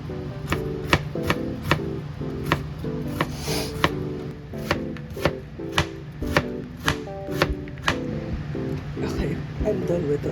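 A knife chops onions on a cutting board in rapid regular taps, close and crisp, with a voice speaking over part of the chopping.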